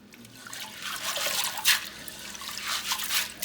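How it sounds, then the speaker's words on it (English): Dry beans are rinsed under running water, which pours and trickles close by in a steady wash with a few louder splashes, and no one speaks. "to sort and rinse the beans"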